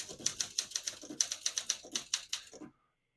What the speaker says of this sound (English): And let's type a sentence.